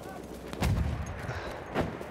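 Gunfire in a Battlefield 1 match sounds as a couple of heavy booming shots with rumbling low-end tails over a noisy battlefield backdrop, fairly close, with no voice on top.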